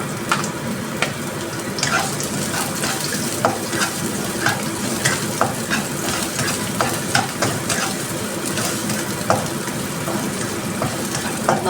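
Onion sautés in a little hot oil, giving a continuous close sizzle with regular light scrapes and taps from stirring and no talking.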